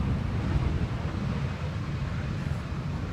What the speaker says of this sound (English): Now we're being exposed to the wind.